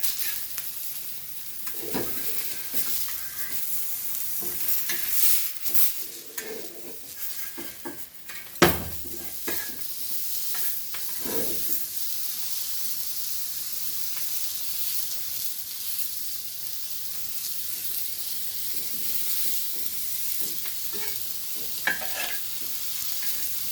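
Fresh salted Goan mackerel dry-fries in a pan with no oil, giving a steady sizzle and hiss broken by scraping stirs and occasional clatters of a utensil against the pan.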